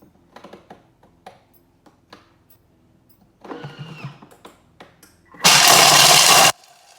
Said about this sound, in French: 150 g d'amandes que j'ai fait revenir à la poêle. Et je vais les mixer